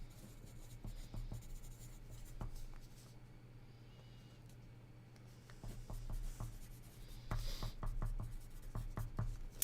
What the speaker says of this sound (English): I'm going to write it down because I don't want to forget.